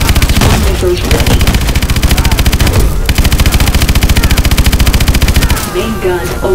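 Sustained rapid-fire main gun in Call of Duty: Advanced Warfare, a loud relentless mechanical rattle of evenly spaced shots that pauses briefly once before resuming, with a spoken announcement near the end.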